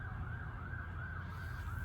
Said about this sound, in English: And we're hearing the siren